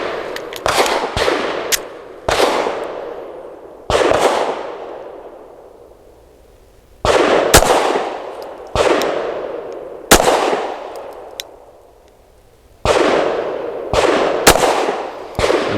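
Ermox X-fire pistol firing Blazer aluminum 115 grain rounds, a sequence of about eleven loud, sharp gunshots in uneven groups, each with a ringing outdoor decay, and no talking.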